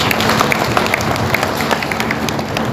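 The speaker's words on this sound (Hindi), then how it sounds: "तालियां बजा के स्वागत करता हूं।" Crowd at a community gathering clapping to welcome a guest, a loud, busy patter of many hands that carries on without a break, with some background hum beneath it.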